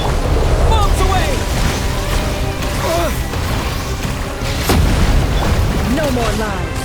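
Bombs exploding in the Genshin Impact video game, heavy booms and crashing blasts landing amid a dense bed of game music and effects, with one especially strong hit near the end.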